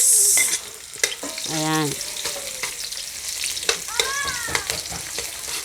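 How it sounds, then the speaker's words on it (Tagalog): Garlic and then onion sautéing in a pan for chicken curry, a steady close sizzle with scraping stirs, while someone speaks briefly over the cooking. "Pag nagigisa ako bawang muna. Tapos susunod ko na ang sibuyas."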